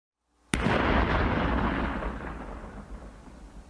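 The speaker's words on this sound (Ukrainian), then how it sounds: "піротехніки підірвали небезпечні знахідки" A single sharp, loud blast of detonated munitions followed by a long rumbling roll that slowly fades, with no voices.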